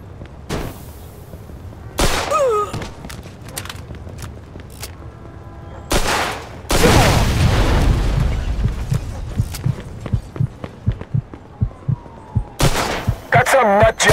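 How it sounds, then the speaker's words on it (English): Gunshots in Mafia 2 Definitive Edition, Jimmy's Vendetta: loud sharp blasts spaced unevenly, with a long heavy rumbling burst near the middle and a quick volley of cracks at the end over game ambience. "Got some nut job here shooting a gun."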